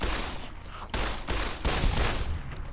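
Rapid gunfire from shooting geckos in Fallout: New Vegas, three or four loud bursts of shots close together with a short gap between them, no talking over it.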